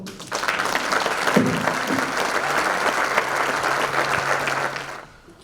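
Sustained applause from a concert audience after a tango performance, dense and steady for several seconds before fading out at the end.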